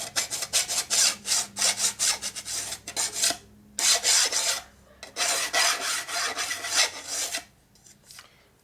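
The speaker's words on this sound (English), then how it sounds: "you do have some more control over your filing than a deburring tool" A hand file rasps against a metal part from a custom Harley Evo chopper during a rebuild, in close, rhythmic bursts of scraping strokes with short pauses between runs.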